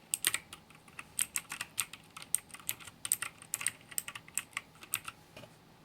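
Keys clack on a Zhuque+ e-sports mechanical gaming keyboard with RGB backlighting, a close, crisp run of irregular taps at a steady typing pace, with no voices.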